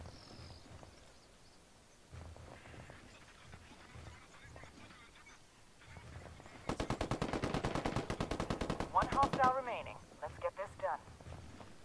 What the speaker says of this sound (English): Where that gunfire coming from? Shooting.